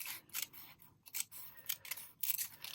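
Scissors cutting paper for a junk journal, a quiet close-up series of crisp snips in an uneven rhythm, with no talking.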